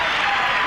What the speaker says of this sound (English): the crowd is cheering here for the Bulls right now and the Pistons as they leave the court